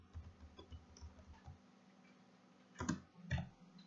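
Soft clicking of computer keyboard keys during Java programming in Eclipse, a few faint scattered taps followed by two louder, firmer keystrokes near the end.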